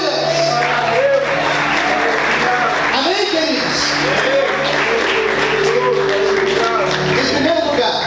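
Sunday church congregation applauding steadily in a large room, with continuous dense clapping and cheers under a pastor's amplified voice speaking over the crowd.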